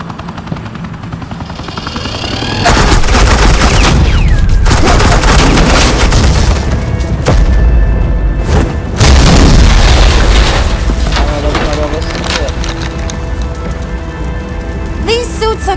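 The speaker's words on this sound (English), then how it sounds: "suppressing fire." Gunfire in the video game Batman: The Enemy Within, a loud sustained burst of shots with booming impacts and a rumbling mechanical drone, cutting in abruptly after a quieter stretch and carrying on over a dense game soundscape.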